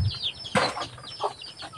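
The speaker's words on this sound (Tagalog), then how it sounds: "Daming manok sa likod ko, di ba?" Several chickens clucking nearby in short, scattered bursts, with a louder squawk partway through and faint background noise.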